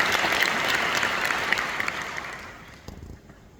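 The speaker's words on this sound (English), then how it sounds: "By the way, give yourself a big round of applause." A graduation crowd at Notre Dame University gives a round of applause, loud dense clapping that fades out over a few seconds to near silence.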